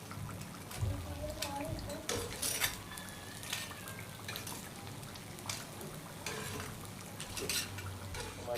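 Wontons fry in oil in a pan, giving a soft, distant sizzle under clinks and stirring sounds of utensils against the pan, with a voice talking over it.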